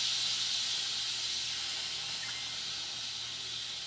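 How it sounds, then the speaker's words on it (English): Steady, loud hiss of steam venting from an Instant Pot electric pressure cooker after cooking spicy chicken and rice, a continuous close rush that eases only slightly over four seconds, with no talk. "Now I can release the steam."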